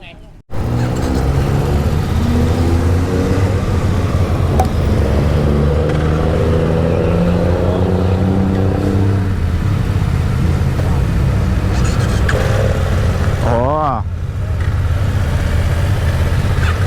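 A 2020 BMW F900R Sport Style roadster's 270-degree parallel-twin engine revs and idles close by, a steady low throb with rising and falling pitch sweeps and a sharp blip near the end, with a voice talking over it.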